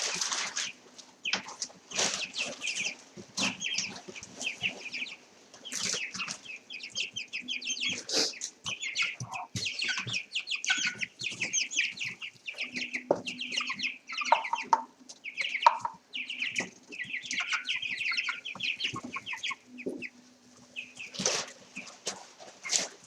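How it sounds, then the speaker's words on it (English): Several chickens cluck in a pen. They keep up a near, lively chorus of short, overlapping clucks and squawks with brief pauses and occasional wing flaps throughout, with no talking. "we can confirm now that Square, Chili Pepper, and Summary Bar now cluck instead of squeaking"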